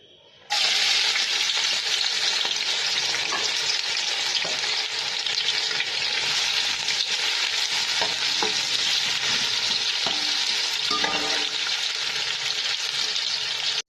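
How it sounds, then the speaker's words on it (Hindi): Two medium chopped onions frying in oil in a pot on a stovetop, a loud, constant close sizzle that starts suddenly and holds steady, with faint stirring clinks underneath. "ये देखें प्याज हमारी इधर हो रही है चूल्हे पे।"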